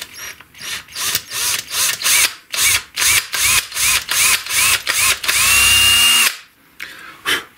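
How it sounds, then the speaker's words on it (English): A power drill with a 3/32 bit bores screw holes into an electric guitar body, a Fender Player Duo-Sonic, in short repeated whirring bursts that rise and stop, ending in one longer sustained run, close and loud. "I'm going to use a 3/32 drill bit"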